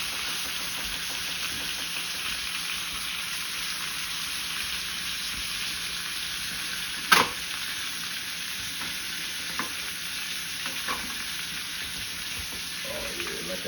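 Chicken searing in melted butter in a frying pan, a steady close hiss and crackle that holds all the way through, with one sharp pop partway and a few faint clinks near the end.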